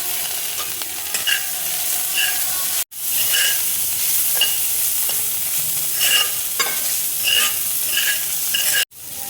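A potato sandwich filling with sweet corn, green chilli and salt is stir-fried in a pan, with a constant loud sizzle and scraping stir strokes throughout, briefly cut twice.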